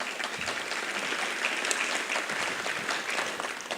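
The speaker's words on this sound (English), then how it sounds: "Please give him a round of applause." A round of applause for Ron Smith, 25 years with CFRI, as he is called up; dense, lively clapping from a nearby crowd, steady throughout with no speech over it.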